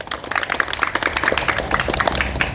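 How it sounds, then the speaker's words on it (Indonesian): A class of students in a school physical education lesson claps together in a quick, dense burst of applause that carries on steadily throughout. "Yuk, tepuk tangan dulu buat kita semua."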